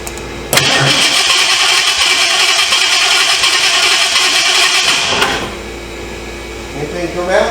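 A 1978 Ford Mustang II engine cranks over steadily and loudly for about five seconds, a continuous churning starter drone that then cuts off, leaving quieter rustling behind.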